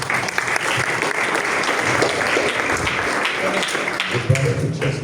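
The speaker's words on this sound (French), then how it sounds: "C'est bon, acclame Jésus-Christ" Church congregation applauding during a deliverance service, dense continuous clapping close and loud throughout, with voices mixed in beneath.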